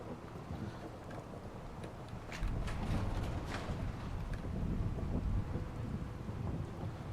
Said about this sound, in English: This sound that's happening, the rain on a metal roof, love it.